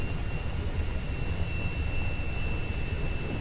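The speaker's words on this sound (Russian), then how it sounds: "Самолет! Быстрее! Он готовится к взлету!" A fixed-wing airplane's engines drone as it prepares for takeoff in the video game Kane & Lynch 2, a steady low rumble with a thin high whine running evenly throughout, with no voices.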